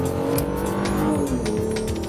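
A 2013 Hyundai Genesis Coupe engine revs hard and shifts through gears, its loud rising note close by and briefly dipping between pulls.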